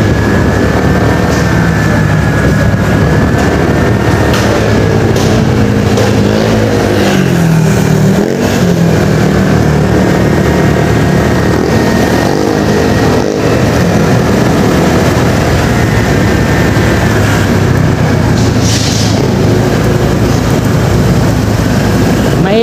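Automatic scooter-style motorcycle engine while riding on a city road along EDSA in Quezon City, a loud continuous drone with shifting revs and wind rush throughout, no talk.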